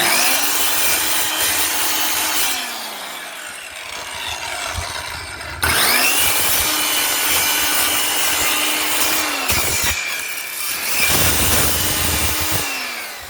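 A power saw cuts a notch into a wooden flooring plank, grinding loudly and close in three long passes, the motor winding up and down between strokes with brief pauses.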